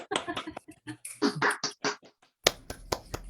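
A handful of scattered claps from online meeting participants who have just unmuted, sharp and isolated near the end, following a brief stretch of voices.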